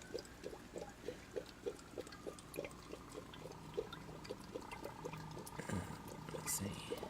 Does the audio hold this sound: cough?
no